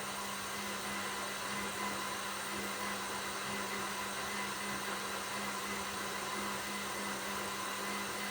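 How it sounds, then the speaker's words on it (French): An electric hand mixer whirs steadily at high speed while whipping cream for a chocolate and pear mousse cake, an even, continuous motor drone with no breaks. "On augmente la vitesse pour ceux qui ont un batteur électrique progressivement."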